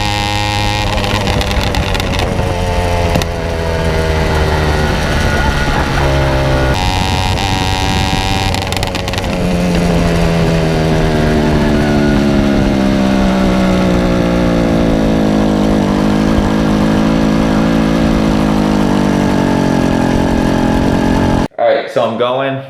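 A motorcycle engine runs loud and close throughout, revving up and down with its pitch sweeping and then settling toward a high idle. Someone talks over it for most of the stretch.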